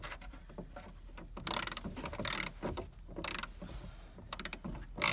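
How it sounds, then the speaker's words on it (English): Ratchet clicking in short bursts while tightening seat belt bolts in a 1971 Volkswagen Beetle, close and fairly loud, with quieter mechanical rattles between the bursts and no talking. "It's a ratchet."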